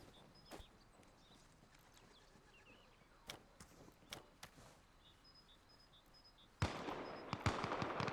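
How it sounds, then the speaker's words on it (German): Gunfire in the Arma Reforger video game: scattered sharp single shots crack over quiet background, then a louder burst of rapid close fire near the end. "Oh, wird geschossen, ganz nah bei mir direkt."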